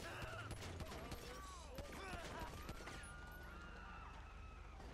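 Gunshots from a police officer's weapon in the GTA V LSPDFR mod, buried in a dense, loud game mix of wailing tones and voices, with no single crack standing out clearly.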